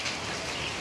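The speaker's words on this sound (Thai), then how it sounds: "ฝนตกแต่4 โมงนี่แหละ" Steady rain falls in a dense, close hiss of drops pattering on surfaces, continuous and fairly loud with no voices.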